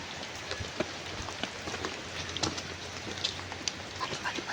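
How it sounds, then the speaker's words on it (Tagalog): Heavy rain drums steadily on surfaces outdoors, with scattered louder drops and splashes standing out across the wash of noise. "lakas ng ulan dito"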